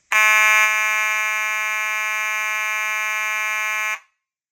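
A Simplex 2901-9838 fire alarm sounds continuously, a loud, steady, piercing electronic buzz-tone held for about four seconds before cutting off abruptly.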